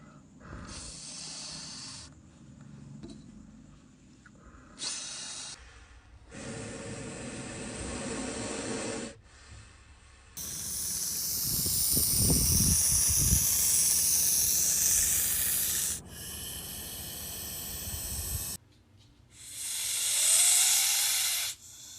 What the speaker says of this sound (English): Most snakes will make a hissing noise when they feel threatened